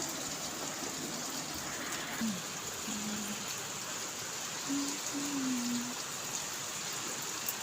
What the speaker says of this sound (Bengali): দেখো বাইরে খুব বৃষ্টি হচ্ছে